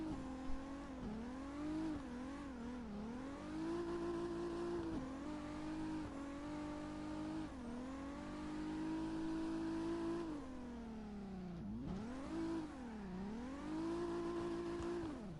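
Toyota cars drifting in CarX Drift Racing, a steady loud engine drone that revs and dips repeatedly with sliding pitch swings, uninterrupted and without talk.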